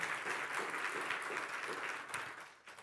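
A crowd applauds the conductor at a choral or vocal concert, with broad, even clapping at moderate volume that continues steadily before tapering off near the end.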